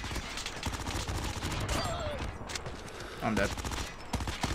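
Rapid bursts of gunfire from the mobile shooter Call of Duty Mobile, in a 3v3 capture-the-flag Face Off match, crackle steadily and loudly throughout, with a player's voice talking over the shots.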